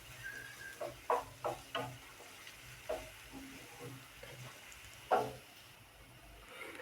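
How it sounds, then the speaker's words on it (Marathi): Garlic paste sautés quietly in a pan. A faint low sizzle sits under a series of soft spoon scrapes and taps, with one louder clink midway. "आपण आता थोडीशी पेस्ट घालायची आहे लसणाची. आणि पुन्हा व्यवस्थित परतून घेऊया."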